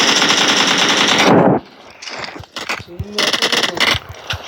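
Video game gunfire: a loud, rapid automatic burst runs for over a second, then gives way to scattered shots and clatter while players talk excitedly over it.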